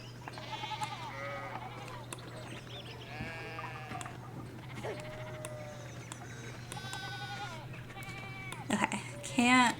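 Sheep in the video game Pentiment bleat repeatedly, several wavering calls spread through the clip over a low steady hum, moderately close, with a sharper game sound near the end.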